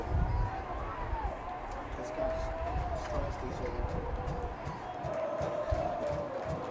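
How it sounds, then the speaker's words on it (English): A loud, steady crowd roar fills a high school baseball championship game for the Episcopal Knights, a continuous wash of cheering and chatter with a voice talking over it. "Loud crowd early for the Episcopal Knights"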